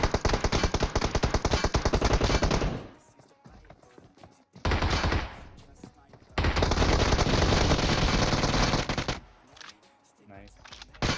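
MK14 rifle fire in the video game PUBG, with loud rapid automatic bursts in three long strings separated by brief pauses.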